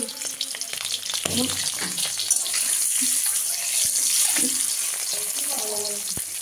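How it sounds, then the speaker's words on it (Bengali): An egg frying in a pan for egg biriyani makes a continuous, fairly loud hissing sizzle with scattered soft clicks and pops, heard close and without talking. "একটু আমরা ডিমটাকে ভাজি"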